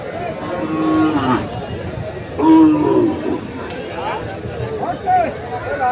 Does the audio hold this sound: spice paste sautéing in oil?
no